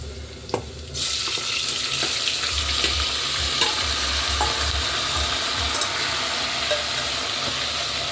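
Mutton tripe (boti) goes into a pan of browned onions and starts frying, bursting into a loud, steady sizzle after a brief scrape and clatter, with stirring scrapes and occasional clinks throughout.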